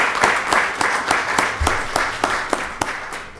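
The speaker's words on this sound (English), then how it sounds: "if we can give them a round of applause for this" Audience applause at a county board of commissioners voting session, steady scattered clapping from a room of people with sharp individual claps standing out throughout.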